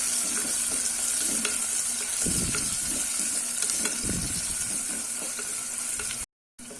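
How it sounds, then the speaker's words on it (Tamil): Sliced onions sauté in a pan for kutharaivali (barnyard millet) pulao, browning toward golden, with a steady soft sizzle and a few bursts of stirring scrapes. A short cut to silence comes near the end. "இப்போ வெங்காயம் நல்லா வந்து கோல்டன் ப்ரௌன் ஆகிற வரைக்கும் வதக்கிக்கலாம்."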